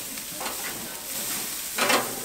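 New York strip steaks and vegetables sizzle on a gas grill running at about 500 degrees. A soft, steady hiss swells briefly into a louder burst.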